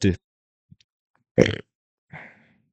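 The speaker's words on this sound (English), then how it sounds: "that burp keep the mic." A single loud burp stands out with a shorter belch-like sound after it, the two separated by near silence and with no talk around them.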